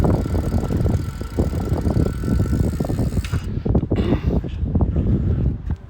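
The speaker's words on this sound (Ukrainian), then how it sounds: "Починаємо крутити педалі. Все, велосипед поїхав." Ride on a 29-inch electric bicycle with a 500 W, 48 V motor and 18 Ah battery as pedalling begins: steady rumbling road and drivetrain noise with wind buffeting, fairly loud and continuous throughout.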